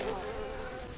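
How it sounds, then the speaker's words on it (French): Mosquitoes buzz in the jungle survival game Green Hell near a waterfall, a thin continuous whine held steady and fairly close for the whole second, with no talk over it. "Il y a des moustiques dans le secteur."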